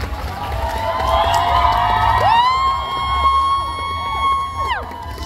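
Fans at a concert event with YouTube and Big C executives cheer loudly, sustained high-pitched shrieks and whoops swelling together over a constant crowd roar, close and intense throughout.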